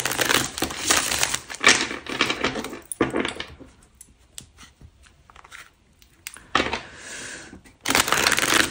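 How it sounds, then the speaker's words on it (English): Tarot cards being shuffled by hand, crisp riffling and crinkling bursts close to the microphone, with brief quiet pauses between rounds of shuffling. "Let's shuffle."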